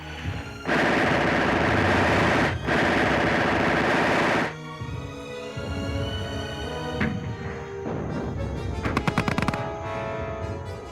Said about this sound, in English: Then the machine guns and mortars open up.